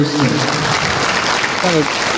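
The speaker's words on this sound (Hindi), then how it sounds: "उनके लिए एक बार जोरदार तालियां" Loud applause breaks out at a meditation gathering in Tripura, a dense burst of many hands clapping close by, while a voice speaks over the start and again near the end.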